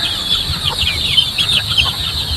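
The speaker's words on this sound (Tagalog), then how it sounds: "Yung mga sisiyo natin dito sa kabilang range natin." Two-month-old chicks cluck and peep on a farm range, a steady chatter of several birds close by with no talk over it.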